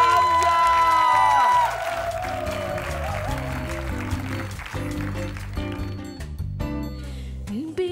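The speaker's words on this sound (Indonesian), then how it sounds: "Berikan tepukan untuk Maizura" Audience applause and cheering at a Malay 1990s-themed entertainment show, loud for the first second and a half, then continuing under a band starting to play.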